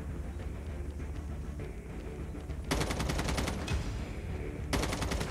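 Rapid automatic gunfire in the Call of Duty Mobile video game, two bursts of fast repeated shots over continuous game background noise, the first lasting about two seconds and the second starting near the end.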